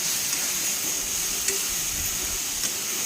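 Tender tamarind leaves sizzle and fry with ginger in a hot pan, under a steady bright hiss broken by a couple of soft stirring scrapes, close and continuous.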